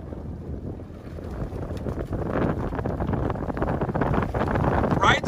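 Strong headwind, about twenty miles an hour, roars and buffets the microphone as a women's rowing eight heads toward the dock, a dense, continuous rush of noise that swells louder partway through.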